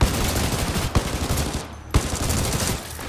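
Rapid, dense gunfire from a fast-shooting gun in Titanfall 2, a loud continuous automatic burst with a couple of heavier thumps and a short pause in the middle.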